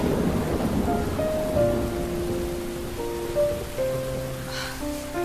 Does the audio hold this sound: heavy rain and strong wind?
yes